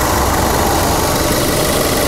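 Subaru Forester XT with a 280 hp turbo engine idling, a steady close-up mechanical hum and rumble with some ticking, with no talk over it.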